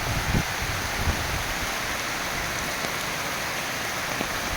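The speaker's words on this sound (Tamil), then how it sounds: "நல்ல மழை" Steady heavy rain pours down in a dense, continuous hiss, with occasional louder drops and no voices, in Nagapuram.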